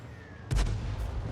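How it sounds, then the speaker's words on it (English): 105 leFH18B2 self-propelled artillery firing in a tank video game, a single sharp booming shot followed by a short rumbling tail, loud and close after a faint engine hum. "We're firing another round in."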